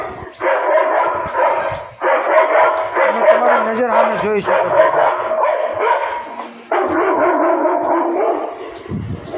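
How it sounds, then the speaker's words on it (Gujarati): A dog-bark recording plays from a farm animal repeller device, with repeated loud, close barks in bursts and brief yelps, as someone speaks briefly over it. "અને આ જે આપણે જોવાના છીએ એ ડોગનો અવાજ છે"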